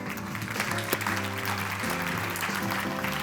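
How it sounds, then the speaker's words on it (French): Applause at a French scientific prize-giving ceremony as a speaker is welcomed to the podium: dense, continuous hall clapping, fairly loud and sustained with no one talking. "Et j'accueille à la tribune, sous vos applaudissements, Maxime Pichon."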